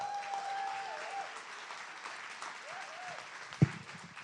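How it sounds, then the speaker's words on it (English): An audience applauds a speaker at a conference session with steady, moderately loud clapping throughout, and a single sharp thump near the end. "Another round of applause for Jill."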